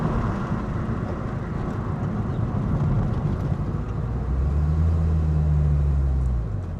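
A supercharged K24-swapped seventh-generation Honda Civic engine holds a loud, steady, droning rev. Its pitch rises and then falls toward the end, suggesting the engine cuts out or drops off.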